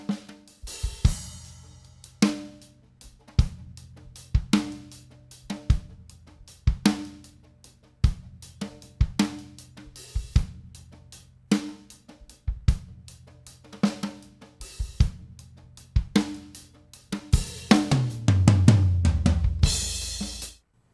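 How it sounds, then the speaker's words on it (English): Stereo drum mix of kick, snare, hi-hat and toms plays a steady beat of evenly spaced hits, building to a denser, louder fill with crashing cymbals near the end. "I'll be working with a stereo recording of a drum mix."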